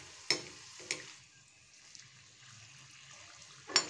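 Green pea stuffed kachori fry in oil over medium heat, a soft low sizzle under a few sharp utensil taps and clinks, quiet and close with no talking.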